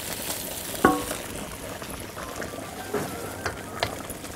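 A pot of vegetable soup with pasta and celery bubbles and simmers quietly with soft steady gurgling, plus a clink or two of a utensil against the pot.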